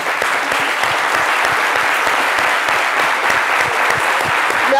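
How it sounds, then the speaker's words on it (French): A studio audience on a French-language midday talk show rises and gives a standing ovation, dense loud applause that holds steady and unbroken throughout with no speech over it. "voudrais vraiment, avec ta permission, Caro, demander à tout le monde de se lever pour applaudir ce monsieur"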